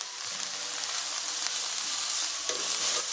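Onions fry in a pan as they turn translucent and begin to caramelize, giving a steady close sizzle with occasional stirring scrapes, alone without voices.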